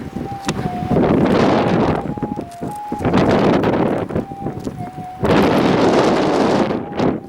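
Thunder rolls during a big storm in the gold-detecting country near Laverton, Western Australia, heavy rumbling surges mixed with gusty wind buffeting the microphone and short steady beeps from a metal detector.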